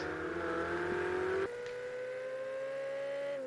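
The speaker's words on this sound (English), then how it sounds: "I can hear a car just ahead, not sure who that is." Ferrari 488 Challenge race car engine at Monza in Project Cars 2: a steady droning high-revving engine note that drops sharply at a gear change, then holds and climbs slowly, moderately loud and smooth.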